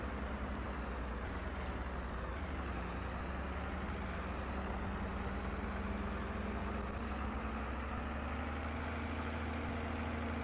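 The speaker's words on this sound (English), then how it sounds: "It might be the sound profile on that tractor's the problem." A tractor engine idles in a farming video game: a steady, continuous low rumble with a broad mechanical drone, held at an even loudness throughout and with no voices over it.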